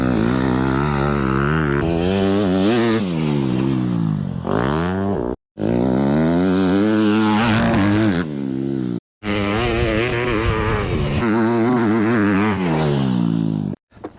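Motorcycle engine revving hard and changing pitch as the bike rides over a series of acceleration bumps, loud and close with brief cuts in sound between passes.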